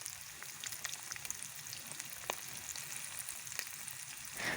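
Five local eggs frying in hot oil in a pan give a steady, crackling sizzle with scattered sharp pops, moderately close and with no voices.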